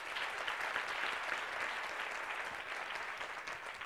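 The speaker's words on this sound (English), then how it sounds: "Give a round of applause to Mandy." Audience applause at a leadership talk, a steady wash of many hands clapping that holds evenly throughout at moderate level, with no voices standing out.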